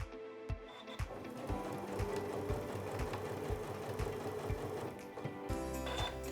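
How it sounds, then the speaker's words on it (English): A sewing machine with an auto pivot feature stitches fabric at a steady, rapid clatter, its needle strikes evenly spaced and close, running continuously with no talking. "let's go ahead and start sewing."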